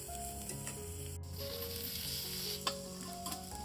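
Onions fry in a pan with a steady, soft sizzle as tomatoes are added for a dry fish dish, a quiet continuous crackle with a brief clink midway.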